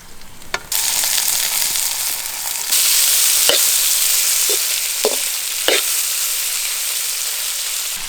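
Boiled cauliflower sizzles steadily in hot oil in a pan, a loud continuous frying hiss that swells partway through, with a few sharp spatula scrapes and taps standing out. No one speaks.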